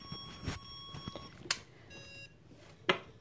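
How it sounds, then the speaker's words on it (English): A phone alarm going off, a series of electronic beeping tones at moderate level with a few sharp clicks and knocks, no talking. "Oh, there's my alarm."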